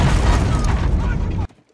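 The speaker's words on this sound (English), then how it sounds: "Why are things exploding?" Explosions going off around a compound during an action scene in the film The Lost City, a loud dense burst of booming rumble that cuts off abruptly into near silence.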